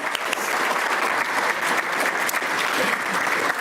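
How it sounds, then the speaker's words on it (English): An audience at a community iftar evening gives a round of applause, dense sustained clapping from a crowd that holds steady for several seconds. "Can we give her and all of the Precinct 4 team a round of applause?"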